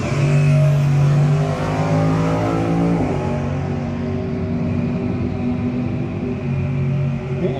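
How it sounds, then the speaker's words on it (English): An old school drag bike races down the strip at a no-box 660 shootout, a loud, close engine roar with strong steady tones that shift in pitch as it runs, heard alone. "the Burnville-based old school drag bike"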